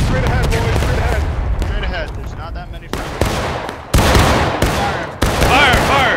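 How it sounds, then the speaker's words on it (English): A line of shooters lets off a volley, several sharp, close gunshot cracks coming in quick bursts amid a noisy scene, while voices talk underneath. "Should we line up and do a volley fire?"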